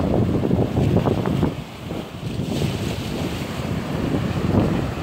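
Strong wind at Kuala Besut Beach buffets the microphone in continuous loud rumbling gusts, with the surf blending into the roar and no voices.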